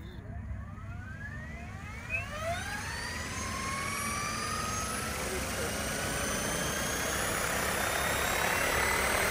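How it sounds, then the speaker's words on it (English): An RC helicopter spools up under a Hobbywing 150A V5 ESC governor. A soft motor whine climbs steadily in pitch while rotor whoosh builds louder and more constant, and people talk quietly nearby. "That's the spool up from the Hobbywing Gov."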